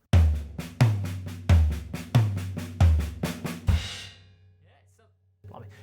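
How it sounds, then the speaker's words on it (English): A drum fill with soft snare notes and loud accented tom hits, the toms booming out in a repeating pattern before a final crash rings and decays; it is close and unaccompanied. "As opposed to if I have quieter notes on the snare and louder accents on the toms."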